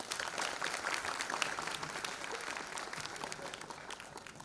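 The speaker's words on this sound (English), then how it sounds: "Let's give them a big round of applause." An audience at a school annual day celebration claps steadily, a dense, even wash of applause from many hands held at a moderate level throughout.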